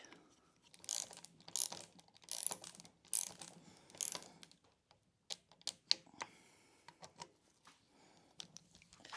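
Ratchet tightening cover bolts on a Polaris Sportsman 570 engine, giving quiet bursts of rapid clicking with short pauses between strokes, close by in an otherwise hushed workshop.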